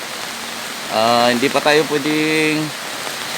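A steady hiss of heavy typhoon rain fills the background while a person speaks briefly over it near the middle.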